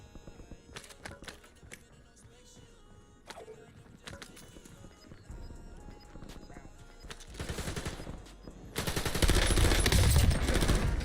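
Automatic gunfire and explosive bursts in a battle-royale shooter video game, sparse at first and building into a loud, dense barrage near the end, with a game announcer voice over the action.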